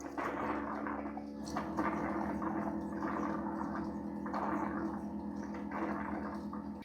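A Roomba 505 Combo robot vacuum dock drones steadily while dirty water gurgles and is sucked through it in a continuous, moderately loud stream.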